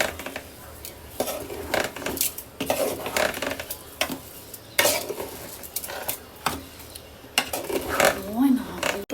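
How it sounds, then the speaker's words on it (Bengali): Polao rice being stirred into fried lentils in a cooking pot, with repeated scraping and clinking strokes of a spoon against metal over a faint sizzle, coming in irregular bursts with a voice heard in between. "এখন আমি পোলাও চাউলটা দিয়ে নিলাম। তো আমি ভালো করে নেড়ে ছেড়ে নিব।"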